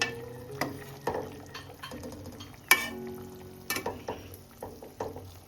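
Drumstick pods are stirred in a cooking pot of prawn curry over a medium flame, giving several separate scraping and clinking strokes with a soft sizzle underneath, close by and moderately loud.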